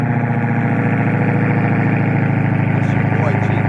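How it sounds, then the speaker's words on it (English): A Dodge Hellcat engine runs at a steady, loud idle throughout, with a deep rumble that holds even from start to finish. "Hellcat, fire up."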